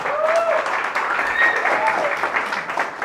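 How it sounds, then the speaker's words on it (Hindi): A church congregation in Mumbai breaks into loud, dense applause during a sermon, steady clapping from many people filling the room, with a voice calling out over it. "वाह भाई, जोरदार ताली से हम धन्यवाद दें"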